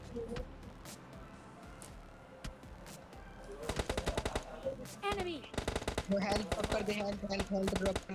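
Rapid automatic gunfire rings out in PUBG Mobile Lite, sparse single shots at first, then dense bursts of repeated rattling shots that grow louder and continue to the end.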